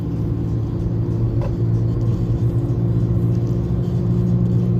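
Chrysler PT Cruiser accelerating, heard as a steady, loud engine drone from inside the car with a slowly rising tone and no talking over it.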